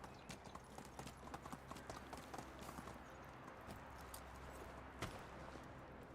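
A horse's hooves clip-clop at a steady walking rhythm through the whole stretch in the medieval village game Medieval Dynasty, close and fairly quiet, with no talking.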